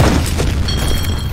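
A grenade blast in the game F.E.A.R. during a combat match: a deep, loud boom that opens the clip and rolls on as a sustained low rumble, with no talk over it.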